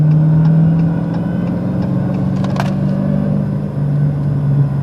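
A manual six-speed Dodge Challenger Hellcat accelerates on a highway. Its engine gives a loud, continuous rumbling drone heard from inside the cabin, rising slightly as it pulls, with no talking.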